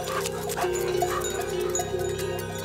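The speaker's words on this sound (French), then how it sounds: "C'est Balou, le chien de Camille, spécialement dressé pour effrayer les brebis." A sheepdog trained to frighten ewes gives short barks and yips with a few whimpering notes, close and fairly loud over a steady, busy outdoor background with no talking.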